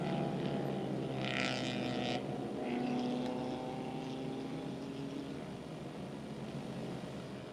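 Honda Talent Cup novice-class racing motorcycles on a formation lap at an Indian national championship circuit, their engines a steady, loud combined drone with a rising pass and whining tones, no talk heard.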